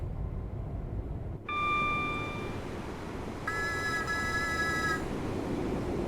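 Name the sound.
AI train whistle in video game Train Sim World 6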